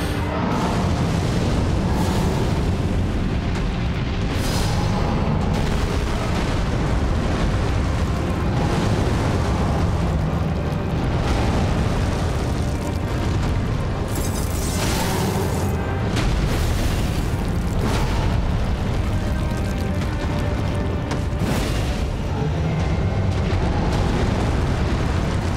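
Fire Giant boss attacks in the video game Elden Ring, a dense, continuous roar of booming explosions and fiery bursts, loud and sustained with repeated impacts throughout.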